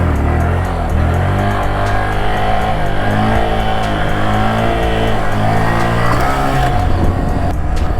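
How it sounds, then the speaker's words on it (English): A motorcycle used for slow stunt practice is revved, then eased off and braked, over and over. The engine is loud and close, its pitch rising and falling under steady wind rush. "Pop that clutch in, give it gas, hit the brake, repeat."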